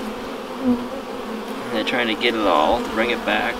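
Honey bees buzz densely around a new hive on a homestead, a close, steady insect hum, while people talk over it.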